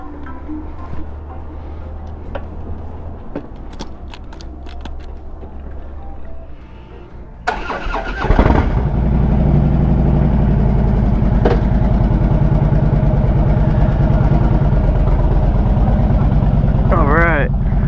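A motorcycle engine at a gas station cranks over and settles into a steady, throbbing idle, close by and loud, after a stretch of quieter background noise and clicks.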